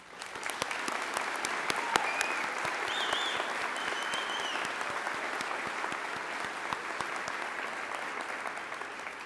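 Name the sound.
audience applauding nursing graduates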